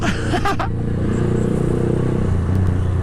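Trucks and motorcycles in heavy road traffic in Tondo, engines rumbling and revving close by with brief clatter near the start.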